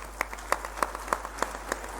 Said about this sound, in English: let's give a hand of applause for his humility